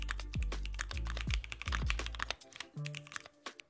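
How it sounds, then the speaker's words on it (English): Keys clatter on a computer keyboard as a task name is typed, a quick irregular run of close, crisp clicks with a brief pause near the end. "And now I can just type out the name of the task."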